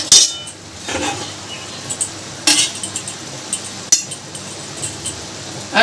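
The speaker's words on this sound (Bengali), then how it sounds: "ভাজা মশলাটা আমি একটু ভালো করে মিশিয়ে দেবো" A spoon clinks against a bowl while fried spice masala is mixed in with salt and red chilli powder for a Kolkata-style puchka tamarind chutney: a few sharp metallic taps and scrapes, spaced out, close and fairly loud.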